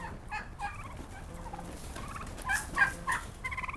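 Several local organic free-range turkeys gobble and call repeatedly, overlapping bursts near and farther off, rising louder toward the end over a quiet outdoor background.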